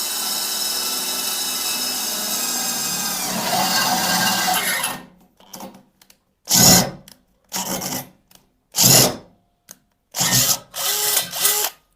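An iBell cordless drill bores an 8 mm hole through a 2-inch iron pipe, first with a loud, steady whine and grinding that runs for several seconds, then with short, sharp bursts of drilling separated by silence.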